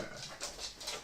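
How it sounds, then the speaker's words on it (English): A dog whimpers and cries in a few short, high whines, fairly faint and repeated. "We just had to go find the dog because he was crying"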